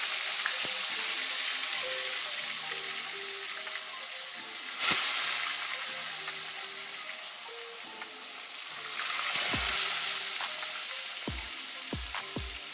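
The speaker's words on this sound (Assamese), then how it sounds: "মাছখিনি মই লগতে লুটিয়াই দিলোঁ ধুনীয়াকৈ ৰঙাকৈ ভাজি লওঁ" Fish pieces seasoned with turmeric and salt fry in a pan of oil for masala fish curry. The steady close sizzle swells now and then, with a few soft utensil knocks near the end.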